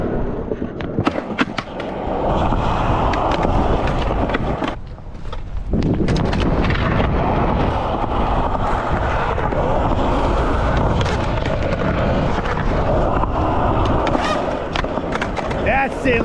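A skateboarder rolls down a bank and into a boardslide along a ledge, with steady wheel roar, clacks and scrapes of the board, light wind on the microphone and a voice talking over part of it.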